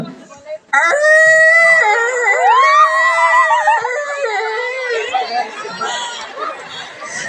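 A human voice imitates a whimpering, crying dog with high, wavering whines and yelps, loud and close, trailing off into noisy chatter.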